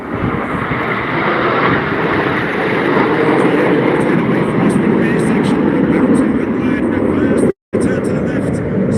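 Aerobatic display jets flying at the Canadian International Air Show (CNE), a continuous loud engine roar and rumble overhead with a live announcer talking over it throughout.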